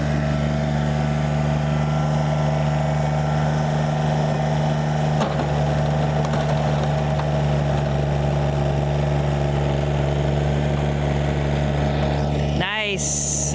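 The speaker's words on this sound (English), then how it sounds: "Good Johnny Green tractor. It's a tough little tractor." A small John Deere tractor engine runs steadily at close range with a constant low hum and droning harmonics throughout, briefly interrupted near the end by a short burst of other noise.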